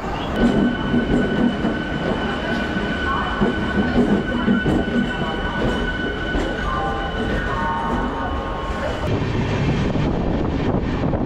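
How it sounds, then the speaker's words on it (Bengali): A passenger train rolls into Bardhaman Junction with continuous rumbling wheels, rail clatter and faint squeals as it slows, heard from on board at close range. "তো আমার ট্রেন এখন এসে দাঁড়ালো বর্ধমান জংশনে।"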